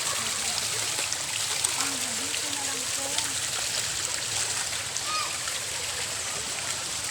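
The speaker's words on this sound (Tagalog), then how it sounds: "kung saan saan na nanggagaling ang tubig guys, naglalabasan ang tubig guys" Spring water flowing out at Bato spring in San Pablo City, a steady close rushing and splashing stream that runs continuously, with people talking over it.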